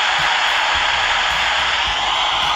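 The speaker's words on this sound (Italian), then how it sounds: "oppure ventola oscillante" Steady broadband whooshing of an oscillating fan sound from a phone app, continuous and even in level, with faint low rumbles underneath and no voices.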